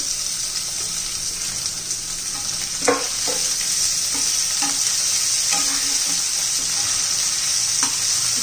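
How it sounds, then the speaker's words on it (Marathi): Tomato and chopped onion sautéing in a pan, with a steady, bright sizzle throughout and intermittent scraping stirs of a spatula. No one speaks. "आपण मऊ होईपर्यंत चांगला आपण परतून घेणार आहोत"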